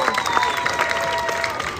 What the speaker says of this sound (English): People coming and cheering.